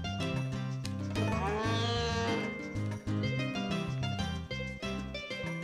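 A cow in the farming video game Harvest Moon: A Wonderful Life lets out a single drawn-out moo, partly buried under loud, busy melodic background music that plays throughout.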